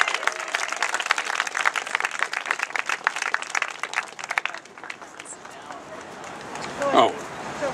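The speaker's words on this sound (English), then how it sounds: "we're going to give a little applause for the Montgomery bus boycotters" An audience at a talk to Occupy Boston claps for the Montgomery bus boycotters, a dense burst of many hands that thins out after a few seconds, with voices and movement mixed in and a brief spoken word near the end.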